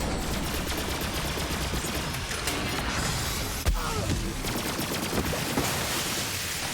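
The Cutsman fire gun in Borderlands 3 shooting continuously, a dense, loud, steady stream of rapid gunfire with crackling bursts and one sharper impact midway.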